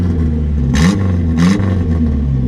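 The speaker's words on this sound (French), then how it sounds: "écoutez ce beau moteur." Renault 4L engine idling with a low, steady drone, blipped twice in short revs that rise and fall, loud and close, during a 4L Trophy rally around Merzouga.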